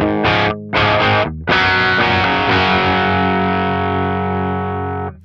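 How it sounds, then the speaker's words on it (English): Electric guitar plugged straight into a Victory VX Kraken amp at low gain, sounding alone: three short chord stabs, then a sustained chord left ringing for several seconds before it is cut off. "this is the sound of the guitar straight in"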